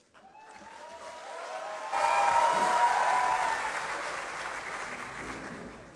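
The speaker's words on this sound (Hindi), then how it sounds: "मुझे कभी कलाम पे इतनी तालियां नहीं मिली जितनी कलाम से पहले मिल गई हैं" An audience applauds a poet being welcomed to a reading, the clapping building at once to a strong, steady roar that holds, then slowly thins out.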